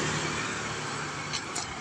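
Trucks and other vehicles passing on a busy main road, a steady loud roar of traffic close by with no pauses, heard from the roadside.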